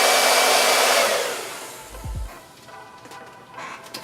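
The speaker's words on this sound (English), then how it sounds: "If it wasn't for that blow dryer," A blow dryer used to dry paint roars loudly and steadily for about a second, then fades out as it is switched off, leaving a quiet room with faint knocks.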